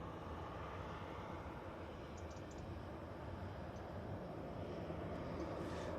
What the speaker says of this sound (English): there's the Easyjet coming in from London Gatwick